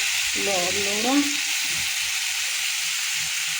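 Tomato and onion frying in oil for an Odisha-style mushroom masala curry give a steady, bright sizzle throughout, with a short voice rising over it near the start.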